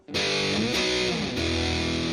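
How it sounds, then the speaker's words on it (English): An electric guitar played through a fuzz pedal rings out in thick, saturated, hard-clipped chords, loud and sustained with a couple of quick chord changes and no talking. "The rhythm parts for it, I'm using a fuzz pedal."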